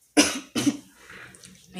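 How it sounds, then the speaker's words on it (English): Two sharp, close coughs in quick succession, followed by a quieter trailing throat sound. "I'm gonna be coughing for a while"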